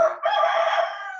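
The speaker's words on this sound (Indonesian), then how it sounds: "Ada suara ayam di belakang." A rooster crows once behind a speaker in a village, a single drawn-out cock-a-doodle-doo that holds clear and fairly close, fading slightly toward the end.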